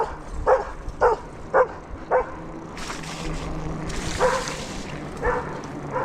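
A dog gives several short yips or barks in a row near the start, then a voice talks in the background.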